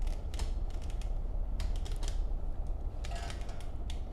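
The spring inside a CH flight simulator yoke creaks and ticks as it moves, giving a rapid scatter of small mechanical clicks and rasps over a constant background hum, close up, with no voices.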